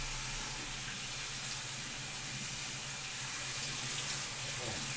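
Tap water runs steadily into a bowl of blueberries being rinsed by hand, a constant close splashing hiss with no pause.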